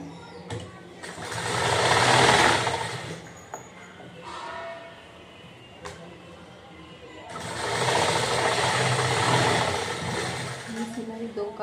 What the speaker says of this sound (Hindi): सीधे वाली साइड पर इस तरीके से फिनिशिंग की सिलाई लगानी है